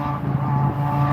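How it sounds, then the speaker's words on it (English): A loud, steady engine drone with a low rumbling tone holds throughout, like a motorcycle running close by. "Motorcycles are so loud down here."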